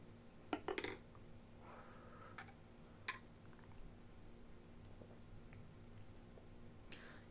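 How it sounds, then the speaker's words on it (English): A spoon stirs the crema in a cup of Nespresso Stormio coffee, giving a quick cluster of small clinks against the cup, then a few sparse, faint taps in a quiet room. "now we're gonna stir in the crema on the regular Stormio"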